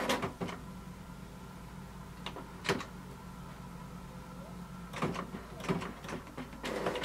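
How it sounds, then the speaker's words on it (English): A Canon PIXMA TS5320 inkjet printer powers on and starts up, giving faint internal whirs and several sharp mechanical clicks and clunks in irregular bursts over a quiet room. "Now the first step is to switch on the printer"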